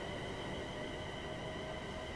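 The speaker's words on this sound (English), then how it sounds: "That weird acceleration noise this train has." Electric train motors in Train Sim World 5 under full throttle give a steady, close, even rumble carrying a thin sustained whine.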